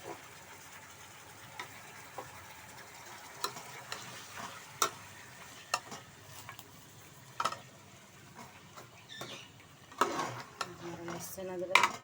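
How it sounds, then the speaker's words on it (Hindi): Beef frying in hot oil with garlic and ginger for a beef karahi gives a soft, steady sizzle, broken by intermittent clicks and scrapes of a utensil stirring against the pan, with sharper knocks toward the end. "लहसुन अदरक, इसको हमें हल्के से भूनेंगे"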